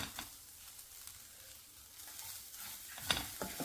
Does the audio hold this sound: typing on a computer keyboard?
no